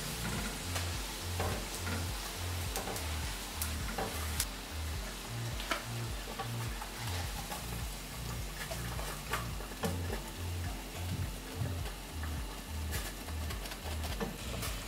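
Chicharras frying in hot oil, a steady loud sizzle and crackle with a rhythmic low patter beneath, continuous and close throughout.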